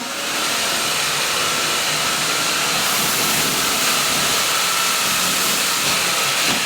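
Cordless vacuum cleaner running continuously, a loud, steady airy hiss and whir with no pauses, close by and without talk.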